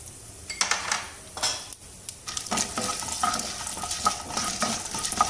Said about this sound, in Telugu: గోల్డెన్ కలర్ వచ్చే వరకు వేగాలండి